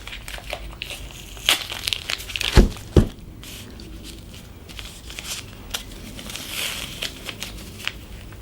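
Masking tape is torn from the roll and pressed down as a bandage during leech therapy, giving a few sharp rips and crinkles over a quiet, rustling background.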